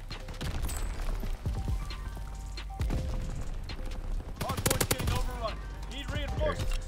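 Gunfire from a DLC weapon in Call of Duty: WWII, with rapid loud bursts of shots and clattering impacts across the clip, mixed with other game sounds.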